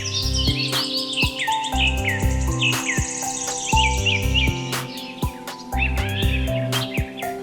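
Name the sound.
flocks of birds calling at a village bird sanctuary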